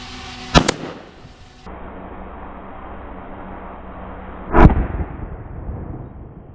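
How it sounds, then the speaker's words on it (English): Two sharp, loud gunshots from an FN 545 pistol firing 45 ACP rounds, spaced about four seconds apart outdoors, each followed by a short decaying echo. "This is 45 ACP through the FN 545."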